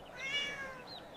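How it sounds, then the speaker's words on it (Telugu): A cartoon cat gives a single drawn-out meow, clear and close, rising then falling over about a second with no talking. "అమ్మాయి, ఈ పిల్లి మన అర్జున్దే."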